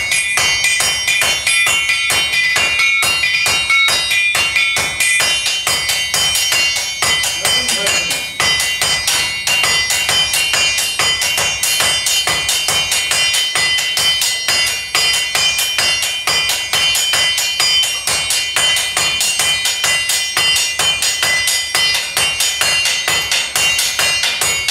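Blacksmiths hammering on an anvil during fire forging, a fast continuous stream of bright ringing metallic strikes kept up in steady rhythm, loud and close, with no voices.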